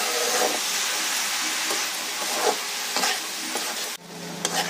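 Radish frying in mustard oil in a pan gives a continuous loud sizzle, with rhythmic stirring scrapes every second or so before a sudden drop near the end.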